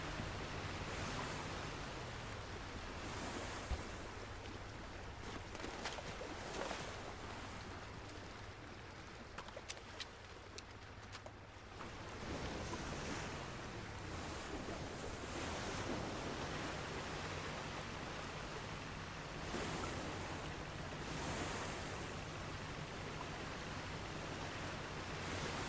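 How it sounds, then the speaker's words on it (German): Ocean waves and gusting wind in the naval video game Age of Water make a steady, broad rushing wash that swells and ebbs throughout, with no voices. "Weil da wieder diese komische Windwelle kam."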